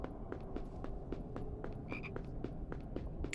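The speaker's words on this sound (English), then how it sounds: "I can hear a frog though." A frog croaks with repeated short, rhythmic pulses in a PS2 Harry Potter Philosopher's Stone game, set against soft ambient background noise.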